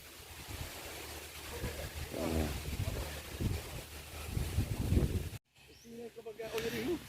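Rushing wind buffets the microphone steadily at a fishing spot in the rural Philippines, with water and muffled voices mixed underneath, then a brief cut before it resumes.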